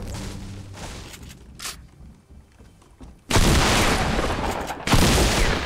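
A double-barrel shotgun fires in Fortnite Battle Royale: two loud, close blasts, each with a lingering roar, break a quieter stretch of game noise.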